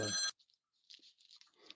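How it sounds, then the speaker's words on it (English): A ringtone-style telephone ring sounds loudly for a short burst at the start, followed by faint, scattered high-pitched electronic noise. "there goes the phone ringing right there"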